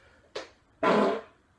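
Two fart sounds: a short burst followed after a pause by a longer, louder, drawn-out one, close and alone with no talk.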